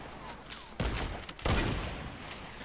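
Sniper fire in a video game: two loud gunshot cracks about half a second apart, each trailing into a noisy echo, heard fairly faintly overall.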